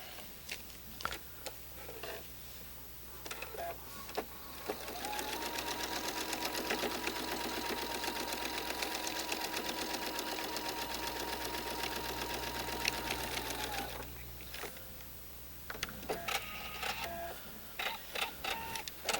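A sewing machine stitches quilt block pieces in one sustained run of about ten seconds, a steady close whirring hum, with quieter handling clicks before and after.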